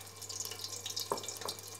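A small amount of water, two to three spoonfuls, is poured onto a covered pan lid while stuffed chili fritters cook on low flame, a brief light splash and trickle over a steady background hum.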